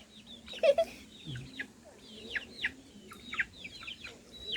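Chickens crowd in at feeding time with a steady scatter of short clucks and peeping calls nearby, with a few soft thumps but no talk.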